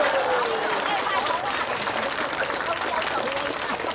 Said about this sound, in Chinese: 喂，拍手啦！